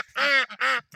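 Farmyard ducks on a snowy, very cold day giving three loud, close, nasal quacks in quick succession.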